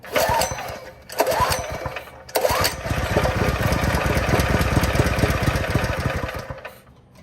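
A small engine on a Murray go-kart sputters through a few short start attempts, then catches and runs steadily at close range before dying down at the end.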